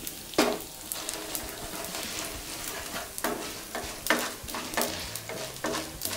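Spices fry in hot oil while coconut chutney is tempered, making a dense, steady sizzle close by with intermittent scrapes and taps from a stirring spoon, and no voices.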